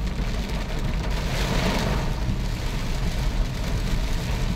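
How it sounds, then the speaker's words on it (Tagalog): Heavy, steady rain pelts a moving car during a typhoon, a dense continuous wash of drumming drops over a low engine and road rumble, with no pauses. "Ulan, ulan, walang tigil"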